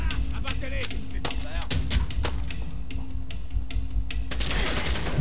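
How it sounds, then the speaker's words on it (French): Gunfire volleys in the video game Fallout 4, played in survival mode, with dense bursts of sharp shots and impacts crackling over constant battle noise, while someone talks over the action throughout. "Mais purée, ça c'est de la fusillade."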